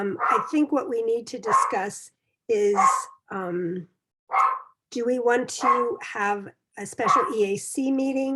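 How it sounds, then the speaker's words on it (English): A dog barks in the background of a public Environmental Advisory Council meeting, its short bursts mixed under steady close-up talk from a participant. "sorry about the dog"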